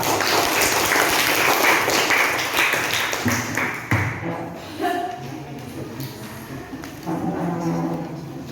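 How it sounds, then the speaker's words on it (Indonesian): Group 2 gets a burst of dense applause from a room of people, loud and steady at first, then thinning into scattered claps and shuffling before picking up briefly again. "banyak berikan aplaus untuk kelompok 2"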